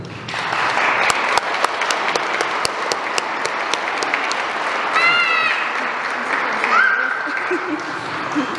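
Wedding guests at a celebration in Jauja applaud steadily, sustained crowd clapping with a few sharper claps standing out and brief bits of voices mixed in near the end.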